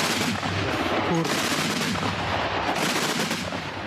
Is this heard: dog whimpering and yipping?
no